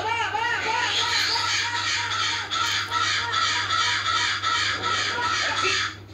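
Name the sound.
crow cawing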